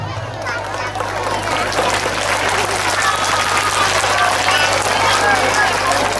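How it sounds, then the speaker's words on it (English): A crowd at a Deepawali school celebration claps continuously, a dense, sustained round of applause from many hands that holds steady throughout. "we have to acknowledge her service and her commitment with a great applause"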